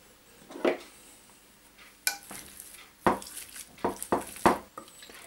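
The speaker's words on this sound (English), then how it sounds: "Well, the potatoes are now cooked, so I'm about to mash them" Cooked potatoes are mashed with crumbled goat's cheese in a pot, heard as a handful of scattered soft thumps and scrapes of the masher against the pan, close and fairly quiet.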